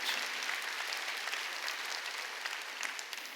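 A church congregation claps steadily throughout, a dense even wash of applause with no voices standing out.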